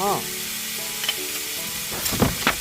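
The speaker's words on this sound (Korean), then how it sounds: "달궈진 팬에 해물을 빠르게 볶아줍니다." Seafood and vegetables stir-fry in a hot pan for a Korean seafood and tofu duruchigi, with a steady close sizzle and a few brief scraping stirs near the end.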